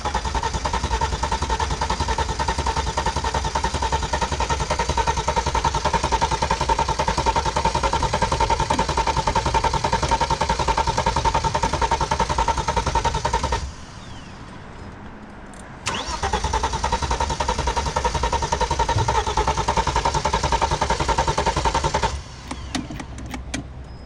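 A Vauxhall engine, just reassembled with the mass airflow sensor reconnected, cranks loudly and rhythmically for a long stretch without catching, pauses briefly, then cranks again for several more seconds.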